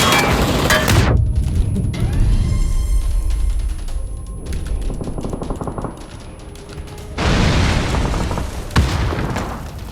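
A grenade blast in the battle royale game PUBG, a heavy boom opening the clip, then scattered gunfire and clicks, and a second loud burst of gunfire and explosions near the end.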